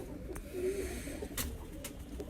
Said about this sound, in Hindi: चपड़े कबूतर आपको दिखाने लगे जी